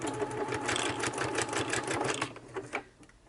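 Sewing machine stitching a zigzag, a rapid rhythmic clatter of needle strokes running steadily for about two and a half seconds before stopping.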